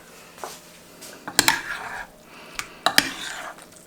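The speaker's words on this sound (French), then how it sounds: "Hop, une cuillère pour mélanger." A spoon stirs a broccoli and chicken gratin mixture in a dish, giving several scraping, clinking strokes close up, with brighter knocks of metal against the dish in between and quiet gaps.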